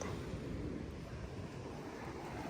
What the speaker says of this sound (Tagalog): Sarap pakinggan ng alon ng dagat.